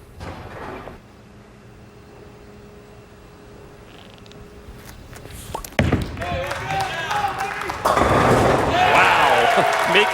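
Bowling ball crashing into pins during a PBA Viper Championship match in 2013, a loud burst of clatter midway followed by a roaring crowd, with a commentator talking beforehand over a quiet arena.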